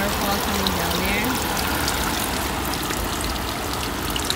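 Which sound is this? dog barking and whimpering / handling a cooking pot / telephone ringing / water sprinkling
water sprinkling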